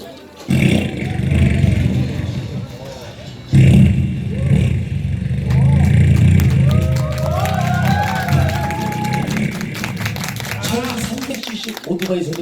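A performer's voice imitates a 750cc American motorcycle starting and revving, a loud, sustained rumbling roar with rising whines, while a crowd claps and cheers around it.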